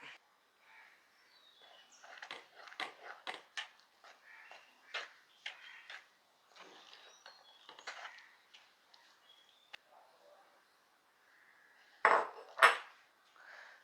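A spoon mixing jackfruit, coconut and rava batter in a bowl, giving soft intermittent scrapes and light clinks in an irregular rhythm, with a pause and then two louder knocks near the end; birds call faintly in the background.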